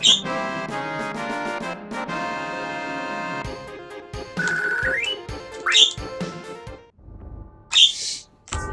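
Short, shrill squawks from a pet bird in its cage come in isolated bursts, spaced several seconds apart, over quieter music in the background.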